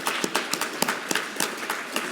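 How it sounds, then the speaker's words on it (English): Audience clapping at an academic symposium, a brisk spread of sharp hand claps with no voices, fairly loud and steady throughout. "Round of applause for them."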